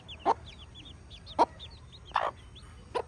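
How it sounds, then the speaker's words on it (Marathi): A hen with her chicks clucks four times in spaced, fairly loud bursts while faint high chick peeps flutter between them; there is no talking. "बघा ती कोंबडी शिकवते त्यांना"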